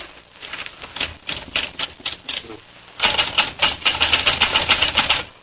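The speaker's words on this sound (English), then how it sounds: "give me a typewriter and I'll go to work" Rapid clacking of typewriter keys struck in quick irregular bursts, moderately loud and close, with a short pause and then a denser, louder run of keystrokes and faint bell-like dings in the second half.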